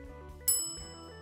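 A toaster oven timer gives one sharp bell-like ding that rings and fades over a quiet background hum.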